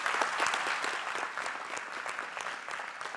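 A roomful of people at a ribbon-cutting ceremony for a health innovation center applauds steadily, a dense even wash of clapping throughout.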